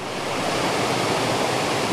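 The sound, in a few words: waterfall cascade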